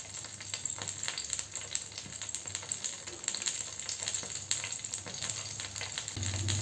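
Byadgi and Guntur red chillies roast in a pan on a low flame, making a constant crackling, ticking sizzle with dense irregular pops, close and moderately quiet, with no talking.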